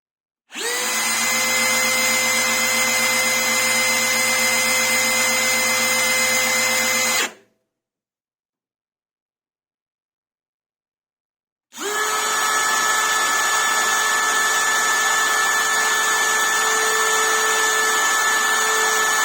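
A Parkside Performance PBSPA 12 C3 and a Bosch Professional GSR 12V-35 HX cordless drill run at no load one after another, each a steady high-pitched motor whine lasting several seconds, with a silent gap between.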